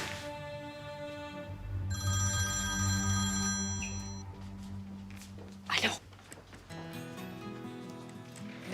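A telephone rings indoors with repeated electronic tones during a night scene in a Turkish TV drama, set against other faint sounds, with a sharp clatter partway through.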